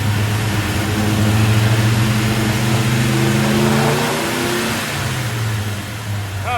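A 1957 Chevy daily driver's engine revving on the move, a loud close rising and falling mechanical roar that holds throughout.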